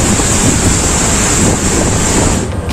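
Churning ocean surf in a storm at sea around a tug boat, a loud continuous wash of water heavily buffeted by wind noise, with no voices.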